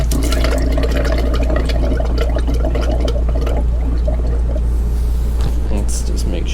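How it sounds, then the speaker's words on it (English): Water flows into an RV motorhome's hot water tank with a steady rushing pour under a constant low hum, while a person talks nearby. "I can hear water flowing."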